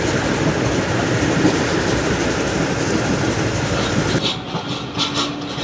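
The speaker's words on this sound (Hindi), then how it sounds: "ट्रेन हमारी लियाकतपुर रेलवे स्टेशन पर अप्रोचिंग बना रही है।" The Zakriya Express passenger train rolls toward Liaquatpur railway station in a heatwave, with a steady, loud rumble and clatter of wheels on rails. Near the end the noise thins as the train slows and a faint squeal emerges.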